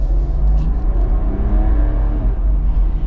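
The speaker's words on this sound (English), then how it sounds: "the sound this makes is so much better than the 4-cylinder of the Wrangler" A 2025 Ineos engine revs with a loud, steady low drone and faint whirring, heard close from inside the cabin, with no speech.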